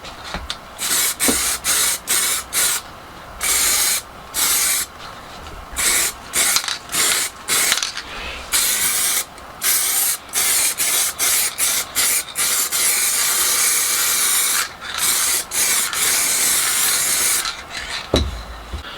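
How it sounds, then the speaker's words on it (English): Cellulose sanding sealer is sprayed onto a pair of wooden drinks coasters in a small shed, with repeated short hissing bursts of the spray broken by brief pauses, then one long steady spray near the end. "I'm going to just give it a coat of that, fairly straightforward, and then it'll be ready for just a light sand and a wax."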